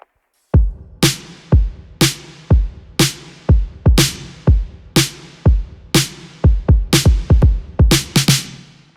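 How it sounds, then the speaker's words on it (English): A steady drum pattern of punchy kicks and snappy snares from a song, loud and close, with the hits getting denser toward the end; no talking. "This consists of the same kick and snare pattern,"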